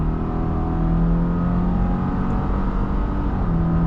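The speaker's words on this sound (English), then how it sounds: "Pretty good sounding engine, honestly, for a boxer." A 2022 Subaru Forester Wilderness with its 2.5-litre boxer engine holds a loud, steady rumbling drone from inside the car, engine note sustained and even throughout.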